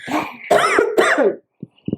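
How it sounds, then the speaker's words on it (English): Two or three harsh coughs close up, then a couple of softer, shorter throat sounds. "I was trying to hold back that cough"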